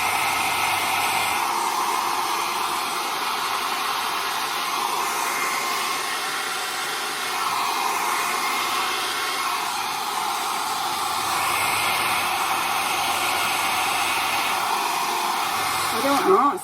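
A new haircare styling tool, a trendy TikTok product, runs on its lowest heat setting, giving a loud, steady airy whoosh that continues without a break, with a brief fumbling noise near the end.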